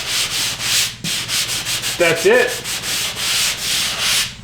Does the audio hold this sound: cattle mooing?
no